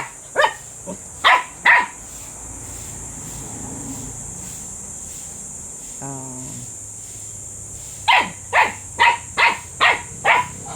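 Dogs bark in short sharp bursts, a few at the start and a rapid run of six or so near the end, over a steady chirping of insects.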